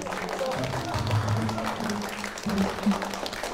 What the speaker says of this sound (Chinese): 下面让我们用最热烈的掌声欢迎别里科夫老师